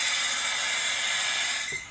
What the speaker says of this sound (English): That's the sound of the transmission imploding inside.